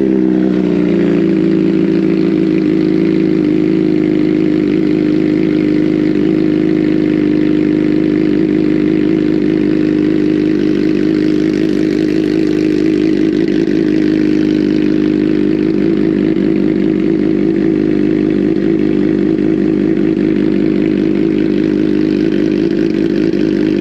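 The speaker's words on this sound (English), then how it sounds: "I'm going to start it up for y'all. A true cold start." A 2022 Suzuki GSX-R750 sport motorcycle with a loud slip-on aftermarket exhaust runs close by on a cold start, its engine rumbling steadily and deeply at idle throughout, with no talking.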